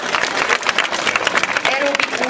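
An audience claps steadily at a school year-end ceremony in Hungary, a dense crowd applause filling the room with a voice faintly audible underneath.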